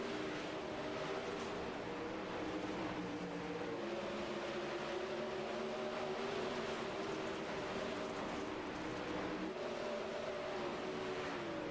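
Dirt track race cars racing at Eldora, a dense, continuous engine roar with shifting pitches as several cars pass in the distance, steady and loud without talking.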